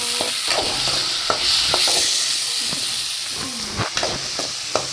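Tomatoes frying in a hot pan with golden onions for egg curry, giving a steady hiss and sizzle with intermittent scrapes and clinks of stirring close by, and no talking.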